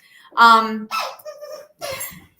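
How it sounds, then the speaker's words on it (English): A dog plays with a loud squeaky toy, producing several sharp, high squeaks in quick bursts, close and prominent, with pauses between squeezes. "my dog knows that I'm doing something, so he has found his loudest toy"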